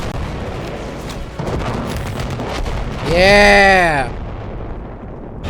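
Anti-aircraft gun fire in a war video game: a continuous loud roar that swells with a rising and falling tonal whine midway, while a voice briefly speaks.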